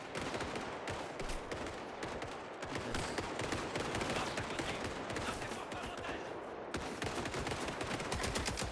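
Dense, continuous gunfire from the video game Indiana Jones and the Great Circle, rapid overlapping shots and bursts rattling loudly throughout with no pauses.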